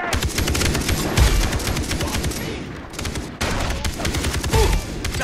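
Rapid bursts of automatic gunfire in the video game Far Cry 3 during co-op combat, loud and dense with a brief lull near the middle before the shooting resumes.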